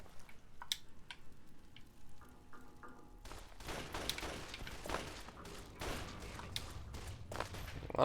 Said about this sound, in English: A lot of gunfire going on over here.